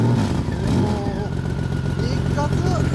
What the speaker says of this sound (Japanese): エンジン音聞かして